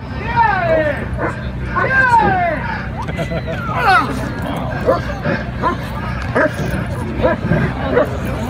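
A dog barks and yips in quick bursts during a bite demonstration at the Frankenmuth Dog Bowl 2016, with someone talking and a crowd murmuring throughout.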